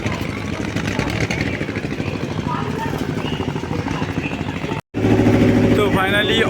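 A ferry launch's engine drones steadily and loudly throughout as the boat departs, a continuous mid-pitched rumble with a brief cutout near the end, while voices chatter over it.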